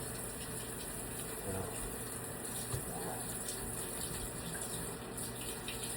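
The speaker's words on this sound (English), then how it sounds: "I'm going to suds this up a little bit, clean up our area with some Dawn dish soap" Water runs steadily from a tap into a sink while washing up with Dawn dish soap after cleaning fish outdoors, a constant close hiss with faint clunks and no talking.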